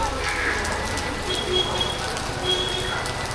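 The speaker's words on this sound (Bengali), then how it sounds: "হঠাৎ করে বৃষ্টি শুরু হয়ে গেল জোরে।" Sudden heavy rain in Kumartuli during Durga Puja preparations pours down steadily, a dense continuous patter on surfaces, with faint background voices and brief tonal sounds mixed in.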